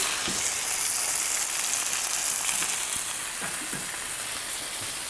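A rib eye steak fries in a hot pan on a few peppercorns, giving a close, steady sizzle and hiss that runs unbroken throughout, with faint stirring or shifting of the meat.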